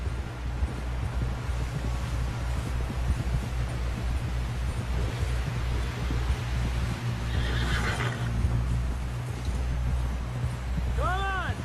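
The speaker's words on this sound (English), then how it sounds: "Someone help John down off this horse" In the Red Dead Redemption video game, a horse whinnies loudly near the end while hooves clip-clop steadily throughout, under wind noise and a faint voice.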